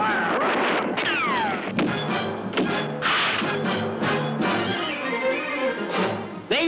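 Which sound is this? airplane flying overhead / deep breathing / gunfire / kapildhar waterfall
gunfire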